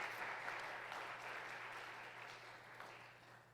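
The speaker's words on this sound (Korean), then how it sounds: "함께 환영하는 박수를 드리겠습니다" A church congregation at a Wednesday university service claps in welcome, a steady, even patter of many hands heard from a distance at low level, with no voices over it.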